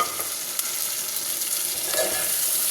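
Chopped tomatoes and green chilies sizzle in a hot pan with an even, hissing fry, and a spoon scrapes and stirs through them now and then; there is no talking.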